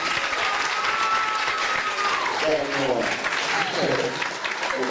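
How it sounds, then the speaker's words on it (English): A crowd at a high school sports awards ceremony gives a sustained round of applause, with voices calling out and chattering through the clapping. "everybody put the round of applause for Anna Matos"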